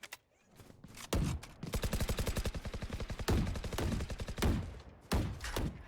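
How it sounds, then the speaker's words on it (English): Rapid automatic gunfire from Valorant shooting down a Sage barrier wall, sustained loud bursts of tightly spaced shots with brief pauses between strings, close and dominant. "Gonna waste half of his bullets taking that wall down"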